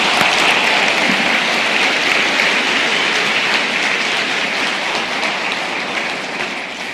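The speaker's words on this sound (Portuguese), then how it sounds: "Salve de palmas pro Thiago." An audience at a lecture claps in sustained, dense applause, loud and even throughout before easing slightly toward the end.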